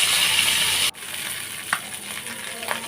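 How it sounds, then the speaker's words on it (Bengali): Fish heads hit hot white cooking oil with a loud, close, crackling sizzle that cuts off abruptly about a third of the way through, leaving a quieter hiss with a couple of faint clinks. "মাছের মাথাগুলো আমি কড়া করে ভেজে নেব"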